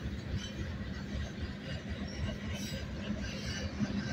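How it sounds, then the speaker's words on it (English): A train rumbles along at a distance near the Ogden rail yard, a steady low rolling noise with faint rhythmic clatter from the wheels. "that train is still rolling."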